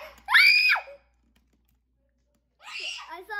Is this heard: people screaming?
yes